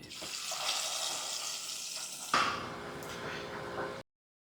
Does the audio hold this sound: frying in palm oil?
yes